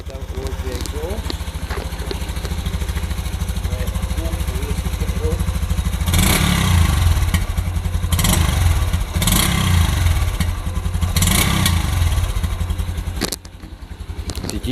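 A Honda Super Cub motorcycle engine idles with a close, rhythmic thump near the exhaust and blips up in several short revs; a person talks over it.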